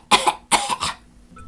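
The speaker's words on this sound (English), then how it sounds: "Let me clear my throat." A woman clears her throat in two quick, close rasping bursts, the second followed by a softer trailing rumble, then near silence.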